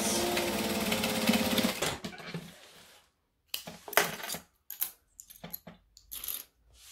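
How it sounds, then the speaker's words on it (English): A sewing machine basting through many thick layers of a backpack near the handles, stitching inside the seam allowance: a close, steady whirring run for about two seconds, then silence and scattered short clicks and mechanical bursts. "I'm trying to just stitch well within the seam allowance."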